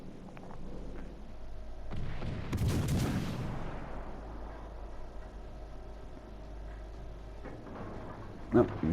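Naval guns fire a salvo in World of Warships Legends, a heavy booming blast near the start that rolls into a long rumbling decay, followed by a later sharper thump, with game ambience underneath.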